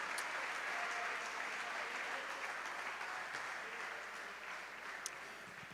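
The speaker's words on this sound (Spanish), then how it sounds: "Aplauda, demos un aplauso al Señor en esta noche" A church congregation claps in praise of the Lord, a steady, fairly distant wash of applause that slowly tapers.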